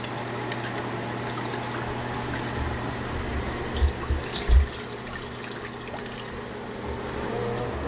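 Steady running tap water with a few louder splashes and thumps partway through, as raw chicken is washed under the stream.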